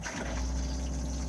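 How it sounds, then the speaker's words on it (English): Water pump of a Thetford cassette toilet in a washroom running steadily, a low continuous hum with a faint liquid rush, close by and alone with no talk. "make sure the water pump's on"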